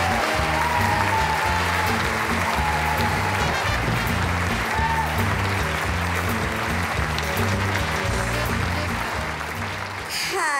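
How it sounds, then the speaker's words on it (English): An audience at the Arc Gala 2013 applauds loudly and steadily for about ten seconds, dense sustained clapping that fades only slightly at the end. "Please put your hands together in welcoming Lauren Potter"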